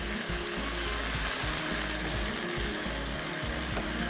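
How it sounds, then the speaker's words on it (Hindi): Chicken frying in a pan for biryani, a loud, dense, unbroken sizzle right up close, with faint bubbling and no voices. "यहाँ पे चिकन को करेंगे फ्राई"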